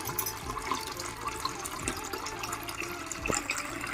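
Water is scooped into a half-full mug with continuous splashing and pouring, plus a few sharper sloshes, close up and steady with no talk.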